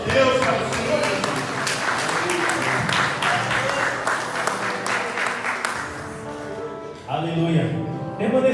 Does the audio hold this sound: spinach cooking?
no